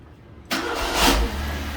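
A Suzuki Swift engine, running rough with a strong petrol smell, catches and rises into a short rev that swells to a peak and eases back, loud and close, with no talk over it.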